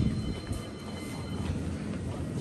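Train rumble at a UK railway station, a steady low rolling drone of railcars with faint mechanical hum throughout, fairly close and continuous with no talking.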